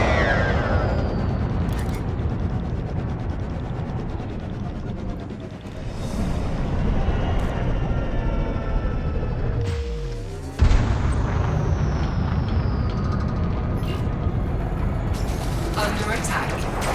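Spaceship weapons fire and explosions in Elite: Dangerous, with dense rumbling booms and bursts, a sweeping pass, and a sharp impact near the end, under a voice talking.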